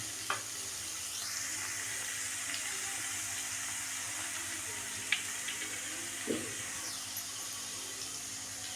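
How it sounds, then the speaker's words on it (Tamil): Onions frying in a pan for a hotel-style poori kurma, a steady soft sizzle with occasional scrapes and stirring knocks of a spoon, close and moderately quiet with no talking. "இது நல்லா கோல்டன் கலர் வர வரைக்கும் நீங்கள் ஃப்ரை பண்ணிகிட்டே இருக்கணும்."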